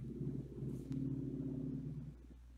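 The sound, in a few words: car in the background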